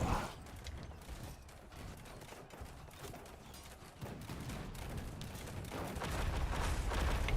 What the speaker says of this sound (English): Those cannons are a right pain, aren't they?